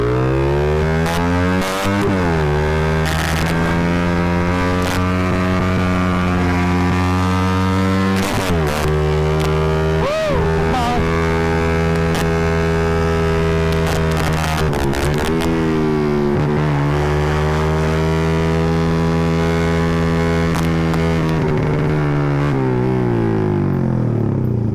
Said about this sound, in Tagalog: Ang bagal yung motor natin.